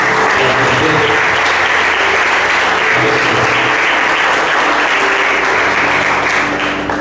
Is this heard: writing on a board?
no